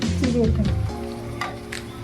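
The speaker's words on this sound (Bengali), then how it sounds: "চিড়েটা দিয়ে হালকাভাবে নাড়িয়ে নিতে হবে" Flattened rice is gently stirred in a pan with fried peanuts, peas and raisins, giving a soft sizzle and scraping under a person's talking voice.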